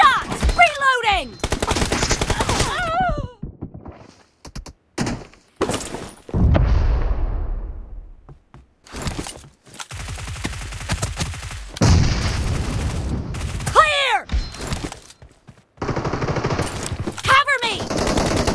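Gunfire in a shooter video game: loud bursts of automatic fire and single shots with booming impacts, broken by brief pauses and game sound effects.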